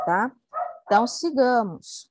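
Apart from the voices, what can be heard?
dog barking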